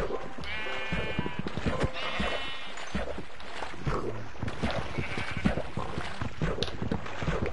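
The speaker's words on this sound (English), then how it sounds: "I just killed a sheep." Sheep in the game Minecraft bleat twice in quick succession near the start, over a busy background of clattering game sounds and footsteps.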